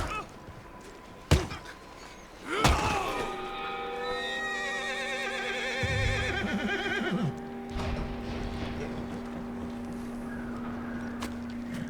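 A horse in the video game Red Dead Redemption 2 gives a loud, wavering whinny after a couple of sharp knocks, then snorts amid low ambient rumble.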